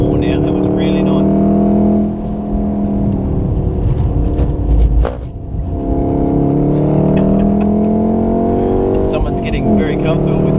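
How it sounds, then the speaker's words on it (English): A Volkswagen Golf R accelerates on a race track at a Wakefield trackday, its engine loud and steady with a rising drone, while a driving instructor talks over it throughout. "Start to accelerate just a little bit. Let's level the car out. Now lots of throttle."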